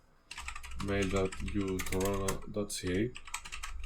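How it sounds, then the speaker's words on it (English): Light clicking of computer keys as an email address is typed, heard close and partly buried under a person speaking throughout. "So I'm gonna type my email here,"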